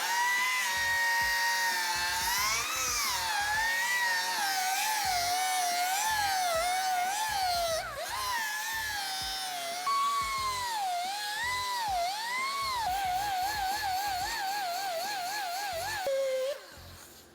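Sanding a high carbon steel file with 80 grit abrasive gives a loud, continuous whining grind whose pitch wavers up and down, running steadily for about sixteen seconds before cutting off.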